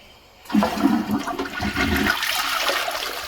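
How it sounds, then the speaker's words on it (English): A toilet flushes in a neglected bowl that has just been scraped clean, a loud continuous rush of water starting abruptly and swirling steadily to the end, with no talking. "let's flush the toilet and we'll see"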